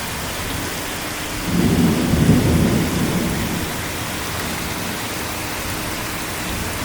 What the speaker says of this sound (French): Il se met à pleuvoir super fort